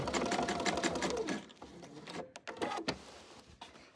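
A sewing machine runs in quick bursts while stitching around a quilted bunny tail on an Easter wall hanging, its rapid mechanical chatter pausing and restarting at close range.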